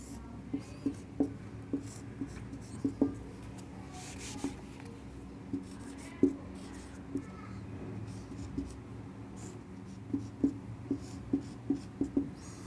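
A pen or marker writing a chemical formula on a board during a chemistry lesson on nomenclature, producing a series of short, close taps and scratchy strokes in irregular bursts over a quiet background.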